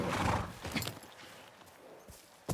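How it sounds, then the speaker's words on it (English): A horse in a video game clops its hooves in a few uneven steps, with a snort-like burst at the start, fairly close and moderate in loudness. "So this is my horse."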